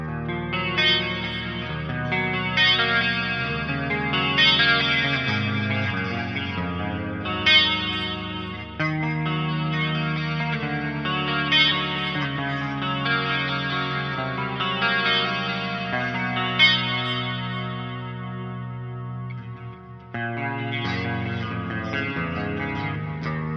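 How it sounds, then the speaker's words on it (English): Clean electric guitar played through the chorus effect of the mixwave Spiritbox amp plugin, with reverb and delay also on, giving shimmering, wavering chords and picked notes that ring out steadily for over twenty seconds with no talking. "Let's go back to the chorus. Let's turn that on."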